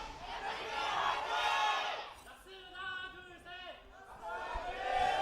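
Esports crowd at an LCK Spring 2018 League of Legends match chanting a cheer for ROX Tigers, loud group shouts that break into a rhythmic sung chant, then swell again, with a voice speaking.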